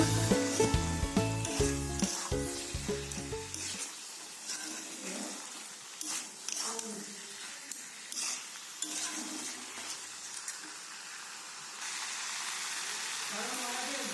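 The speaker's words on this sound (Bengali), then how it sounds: "এবার দিয়ে দেবো সেদ্ধ করে রাখা রাজমা রাজমাটাকে মশলার সঙ্গে ভালো করে মিক্স করে নেব" Boiled kidney beans (rajma) stirred into spices frying in a pan, a soft continuous sizzle with scraping stirs and light clinks of the spoon, close by and without talking.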